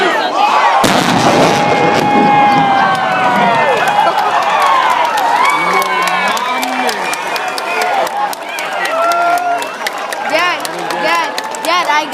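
A wall-of-fire pyrotechnic blast at an air show erupts with a sudden loud boom, followed by a roaring rumble and an excited crowd cheering and shouting, voices continuing over the fading noise.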